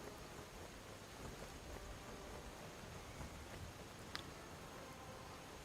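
Rain falls steadily in the video game Skyrim, a faint, even hiss of drops that continues throughout, with one brief sharp tick near the end and no voices.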